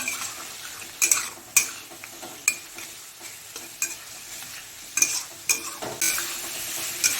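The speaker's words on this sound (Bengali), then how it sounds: "মশলাটাকে ততক্ষণ কষাবো যতক্ষণ না মশলা থেকে কাঁচা গন্ধটা চলে যাচ্ছে" Spice paste with a splash of water stir-fried for a Bengali bata fish curry with papaya and potato, a sharp metal spatula clinking and scraping against the pan at irregular strokes over a soft sizzle.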